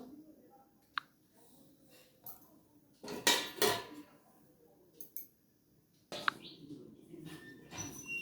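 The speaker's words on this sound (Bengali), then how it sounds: "এবার একটা থালা দিয়ে আমি ঢেকে দেবো।" A metal plate set over a cooking pot of moong dal with fish head, making sharp clanks and scraping rattles in a few bursts against a quiet kitchen background.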